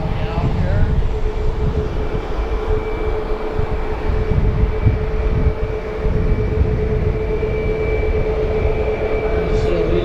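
A Boeing 737 Max airliner moves at Harrisburg airport, producing a loud, continuous jet roar with a deep rumble that holds steady throughout.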